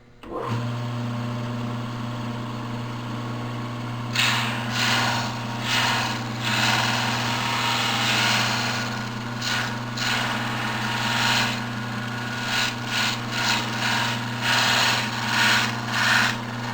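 A homemade drum sander with a pinch-roller conveyor runs with a steady motor hum, and after a few seconds a loud rough sanding rasp joins in, swelling and fading in repeated passes.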